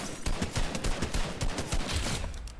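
Gunfire in the Fortnite video game: a rapid, dense burst of shots that rattles on for about three seconds, fairly loud and with no talking over it.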